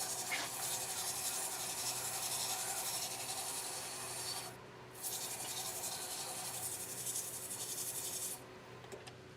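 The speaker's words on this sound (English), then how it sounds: "on this resin, on these, I am going to sand it this direction so that we know that we've got all those marks out of it" Sandpaper of 220 grit rasps steadily across a resin razor stand piece, a close, continuous rubbing hiss that pauses briefly twice before resuming.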